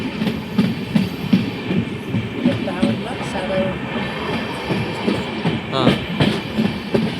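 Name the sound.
moving passenger train, Berhampore to NJP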